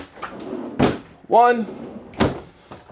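The crisper drawers of a 16-cubic-foot residential-style refrigerator in a 2025 Eddie Bauer 3700MB fifth-wheel RV open and close, giving several sharp thumps and slides. Someone talks between the knocks.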